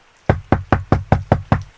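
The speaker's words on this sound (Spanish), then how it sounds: "llamó a la puerta con fuerza" Someone knocks hard on a front door, six heavy, evenly spaced knocks close by, with nothing else heard.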